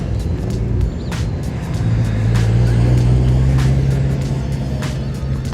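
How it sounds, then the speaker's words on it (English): Several JDM cars idle and pull out of an Arizona parking lot, one engine note rising and holding loudly mid-clip over steady rumbling from others, with faint passing sounds. "We'll get some clips of people pulling out of the lot here."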